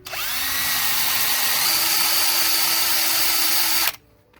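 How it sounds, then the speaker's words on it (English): A power drill whines steadily as it bores a hole into the center of a piece of wood, loud and continuous for about four seconds, then cuts off abruptly. "I'm going to drill a hole."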